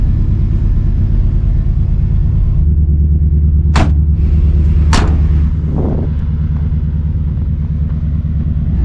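An engine at a desert camp cranks and then idles in a steady, loud low rumble for several seconds, with two sharp clacks near the middle and no talking.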